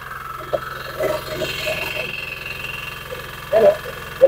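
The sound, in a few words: 7 horsepower diesel engine running a feed pellet machine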